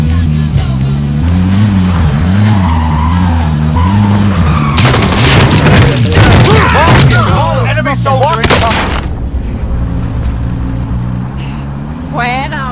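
A vehicle roars and skids in a shooter video game amid bursts of gunfire and explosions, loud and busy throughout, with voices talking over the action.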